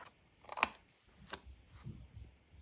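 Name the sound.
scissors snipping off corners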